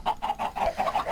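Minecraft chickens spawned in a Thaumcraft 4 modded world cluck in a quick, steady run of about six short, close, moderately loud clucks with no talking.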